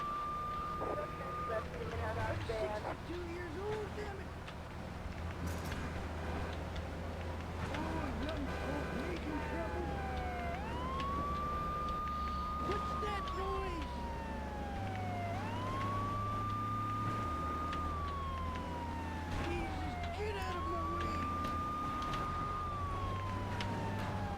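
Police car sirens in the video game GTA 3, a rising and falling wail repeating several times over game engine and traffic noise, with voices talking over it.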